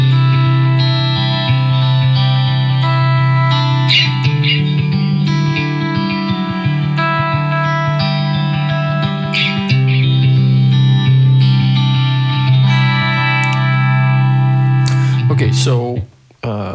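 Electric guitar playing through a pitch-shifting harmony effect, layered doubled notes with heavy processing and reverb, sustained and loud before cutting off near the end.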